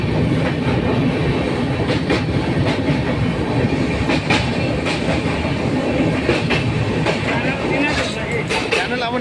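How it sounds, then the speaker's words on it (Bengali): The 13152 Kolkata Express runs on the Durgapur to Kolkata line, heard from inside a 3rd AC coach: a loud, continuous rumble with a rhythmic clickety-clack of wheels over rail joints and occasional sharper metallic knocks. "আর আমাদের ট্রেনও এসে পৌঁছলো দক্ষিণেশ্বর স্টেশনে"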